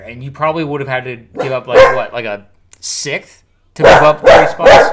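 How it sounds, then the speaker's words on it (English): A pet dog barks loudly in the background during a live NFL draft stream, a burst of several sharp barks following a pause, while someone talks over and between them. "Sorry, that's my dog."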